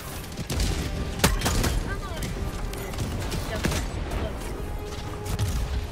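Combat in the sci-fi shooter Helldivers 2: sharp gunshots crack through a dense, rumbling battle din, with several loud reports spaced irregularly and a voice talking over the fighting.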